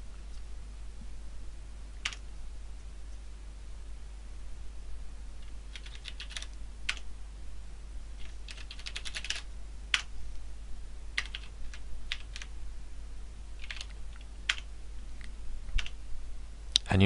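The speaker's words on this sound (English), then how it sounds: "As I start typing" Keystrokes tap on a computer keyboard while entering a record into a Microsoft Access table, scattered quick clicks and short bursts over a quiet room hum, close and fairly soft.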